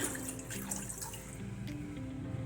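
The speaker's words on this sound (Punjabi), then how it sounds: "ਬੋਲ ਦੇ ਵਿੱਚ ਆਪਾਂ ਠੰਡਾ ਪਾਣੀ ਪਾ ਦਵਾਂਗੇ" Cold water pours and splashes steadily into a bowl for holding butter, a soft continuous trickle close by.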